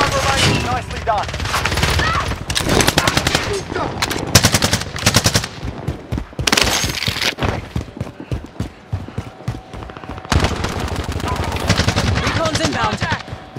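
Rapid bursts of automatic gunfire from a shooter video game battle, loud and close with scattered single shots and pauses, under brief radio-style voice callouts.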